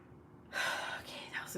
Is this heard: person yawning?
yes